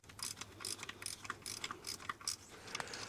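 A ratchet wrench clicks in quick repeated bursts while loosening the bolt on a BMW N52 oil filter housing, close and crisp, with no one talking.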